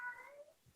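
A domestic cat gives a single faint, drawn-out meow that slides downward in pitch, heard quietly indoors with no other sound around it.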